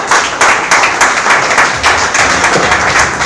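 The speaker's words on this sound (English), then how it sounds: "Wow, round of applause" Full audience applause at a Rotary International public image seminar, following a keynote address: dense, continuous clapping, loud and close, holding steady for several seconds with no voices over it.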